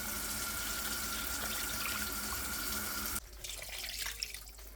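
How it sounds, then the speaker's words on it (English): Water from one or two cans poured over cubed steak in a cooking pan: a steady splashing pour for about three seconds, then a softer, quieter trickle to the end. "now I'm going to add 1 or 2 cans of water to this"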